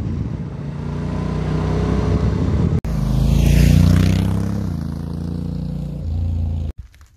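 Honda NT1100 DCT touring motorcycle engine under way, a steady loud drone with rising and falling pitch as it accelerates through gear changes, with wind rush over the top and a brief cut near the end.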